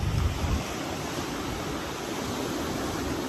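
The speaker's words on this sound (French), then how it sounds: "entendre les vagues venir tout doucement sur les galets et se retirer" Gentle waves wash onto a pebble shore and pull back, a continuous soft rushing hiss that swells briefly at the start and then settles into an even wash, with no voices.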